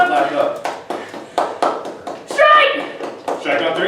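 Group of people clapping hands in sharp bursts amid lively talk and children's voices at a team bowling outing, loud and close.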